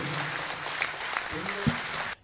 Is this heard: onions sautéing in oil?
no